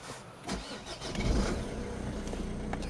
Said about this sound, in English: run it. So engine on.